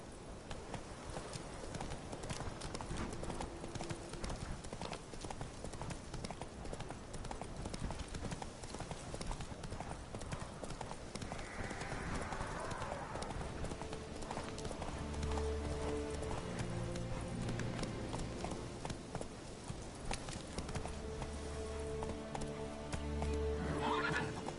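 Roach, Geralt's horse in The Witcher 3 video game, gallops with constant rapid hoofbeats and lets out a whinny partway through, set among game music and sound effects, with another neigh near the end.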